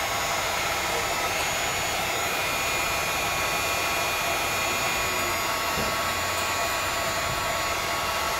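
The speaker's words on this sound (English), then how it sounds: "Gonna grab the heat gun and warm up these rubbers right here because those are rock solid." A heat gun blows a constant, loud, even roar with a high whine while warming hardened rubber parts on a vintage dirt bike, close up and unbroken throughout.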